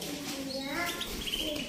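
Canary song from a breeder's stock, with chirps and warbling trills rising and falling across the short stretch, fairly close, partly under background talk and room noise.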